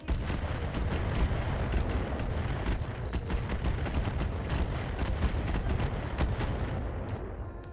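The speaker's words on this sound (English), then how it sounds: "And the follow-up with all the micro missiles." Micro missiles fire and strike in a Roguetech mech battle, a dense continuous barrage of crackling booms and rapid explosive pops that stays loud and steady throughout, with no talk.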